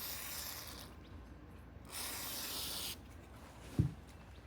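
Cleaner is sprayed onto nylon switch parts during a Tri T140V motorcycle switch rebuild, with two quiet hissing bursts of about a second each and a brief sharp knock near the end, faint and with no voices.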